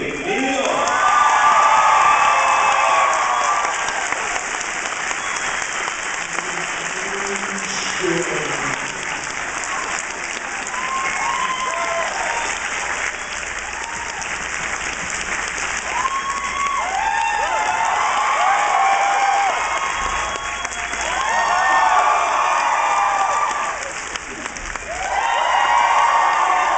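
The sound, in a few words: convention audience applauding Robbie Duncan McNeill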